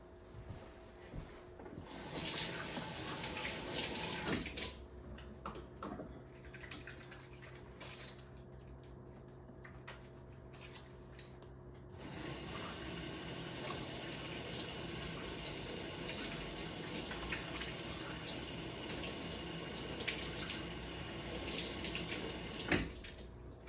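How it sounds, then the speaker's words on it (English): Water runs from a kitchen tap into a sink during handwashing, a steady broadband rush with short changes in flow and hands rubbing under the stream, no talking. "But before we do anything, we're gonna wash our hands."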